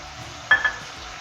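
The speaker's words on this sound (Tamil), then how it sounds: "ரெண்டுத்தையும் நல்லா வதக்குங்க." Capsicum and green chillies being sautéed in a pan, heard as a quiet frying hiss with two brief metallic clinks of a spoon against the pan.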